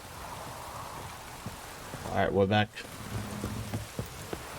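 Thunder rumbles loudly during rain in The Witcher 3 game, one heavy crack-and-roll in the middle over steady rain hiss, with a voice speaking briefly afterward.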